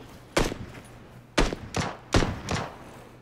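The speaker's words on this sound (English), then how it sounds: "I heard more gunshots" Gunfire in PlayerUnknown's Battlegrounds, five sharp, loud, separate shots at uneven intervals, with quiet pauses between them.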